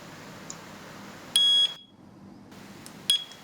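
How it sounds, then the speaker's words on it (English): A Chuango WS-105 mini strobe alarm gives two sharp, loud electronic pairing-confirmation beeps, the first longer and the second short, over a quiet background hiss. "You will hear a beep sound when the pairing is successful."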